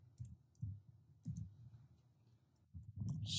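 Typing on a computer keyboard, quiet scattered keystroke clicks in short irregular bursts, with no talk over them.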